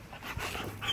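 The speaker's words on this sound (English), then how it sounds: "you see my long-coated German Shepherd Lobo" A long-coated German Shepherd pants rapidly and whimpers in excitement, close to the microphone, with a short yelp partway through; steady breathy panting fills the brief moment.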